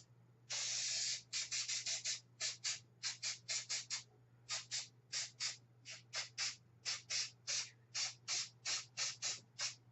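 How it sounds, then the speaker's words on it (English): Rapid bursts of spraying adhesive or PVA glue from a trigger spray bottle, one long spray followed by many short regular squirts, close and loud over a steady low hum. "use your spray bottle with your PVA, scenery glue, or spray adhesive"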